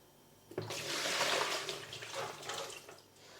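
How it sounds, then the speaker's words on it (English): Leftover liquid from home beer brewing with a Mangrove Jack's kit is tipped back into the brewing container, a close, steady splashing pour that swells and then tapers off over a few seconds. "the rest of this liquid we'll just tip back in here."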